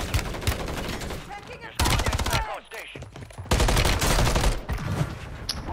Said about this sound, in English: He's shooting at me, Sake.